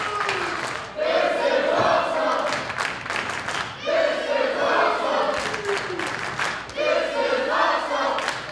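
A crowd at a pro wrestling main event in the Masonic Temple roars and chants in loud rhythmic swells, three surging waves of cheering and shouting that rise and briefly dip, with no clear talk on top.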